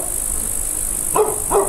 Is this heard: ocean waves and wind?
no